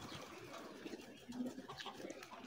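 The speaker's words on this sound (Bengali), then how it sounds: "কবুতরের খামার এটা।" Pigeons coo softly at a rooftop loft on a Saudi Arabian farm house, low and faint against a steady outdoor background.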